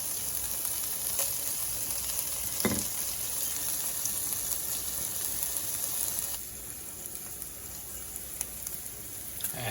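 Chicken and beans sizzle and fry steadily in a pan, a continuous hiss with a brief clatter near the start and a slight drop in level partway through, no talk.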